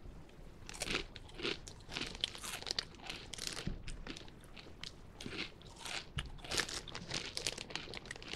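Close-up crunching of Doritos 3D Chili Cheese Nacho corn snacks, with sharp bites followed by steady crackly chewing and some bag crinkling, no talking.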